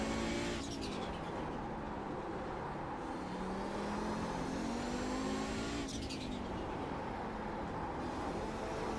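Group of faster race cars approaching in a racing video game, a vintage IMSA Audi 90 GTO at Mid-Ohio, engines droning continuously with rising and falling pitch as cars close in, loud and steady throughout.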